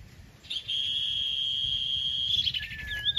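A sunbird near a bird trap sings a thin, high, sustained trill that holds steady for about two seconds and ends in a quick rising chirp, clear and moderately close over a quiet outdoor background.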